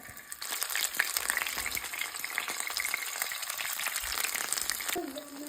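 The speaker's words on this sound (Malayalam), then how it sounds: "എന്നിട്ടിത് ചെറിയ തീയിൽ വേണം ഇതിനെ വറുത്തെടുക്കാൻ" Shrimp fry in hot oil in a pan over low heat, giving a steady, dense sizzle and crackle with a few sharper pops. A brief stirring or scraping knock comes near the end.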